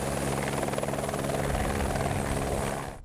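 A helicopter carrying Russia's transport minister, Maksim Sokolov, at a road-opening ceremony in Ingushetia, its rotors and engine thudding loud and steady nearby before the noise starts to fade at the end.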